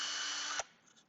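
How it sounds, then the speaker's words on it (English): A drill cuts a countersink into wood during a small box build. It whirs loudly and steadily, then stops abruptly, leaving faint quiet handling sounds. "and cut your countersink"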